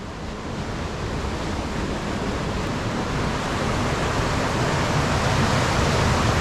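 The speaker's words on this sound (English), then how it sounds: "You can hear there is a real river somewhere down there" A river rushes somewhere below in a stony landscape, a steady, dense wash of water noise that continues without break and with no talk.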